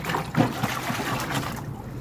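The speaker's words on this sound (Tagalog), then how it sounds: "Lagyan natin ang tubig. Hugasang mabuti." Raw peanuts being washed by hand in a basin of water, with a short run of close sloshing, trickling and light splashing.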